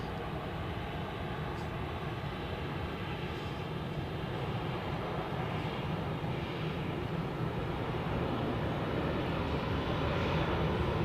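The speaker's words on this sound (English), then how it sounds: "we can focus on the yellow striped Condor A320" Condor Airbus A320 with yellow stripes at Zurich Airport, its engines a steady broadband roar, distant and constant at moderate level throughout, with no pause or talk.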